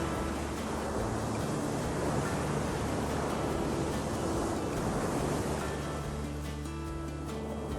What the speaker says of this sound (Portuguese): Ondas gigantes se formam ao largo